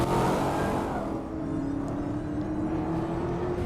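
Dodge Challenger Hellcat Redeye cruising on the road, its supercharged engine giving a steady, close, throaty drone with a brief rise in revs at the start, then a smooth, sustained hum.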